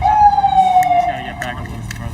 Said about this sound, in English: That's the ambulance. I gotta let the ambulance through.